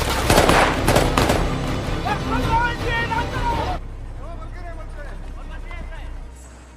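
Heavy gunfire from a Taliban assault in the war film The Covenant: dense, loud overlapping volleys for the first few seconds, then a quieter stretch with voices in the background.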